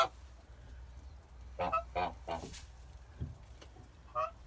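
Kholmogory geese calling in a small family group, a run of several close honks in quick succession followed by a single later honk, with faint low rumble in the background.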